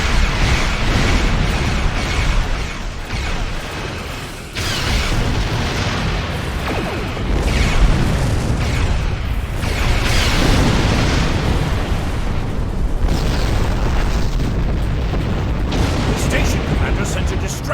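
Cannon fire and explosions in Star Trek Online, with continuous heavy rumbling blasts and booms under a speaking voice, loud and dense throughout.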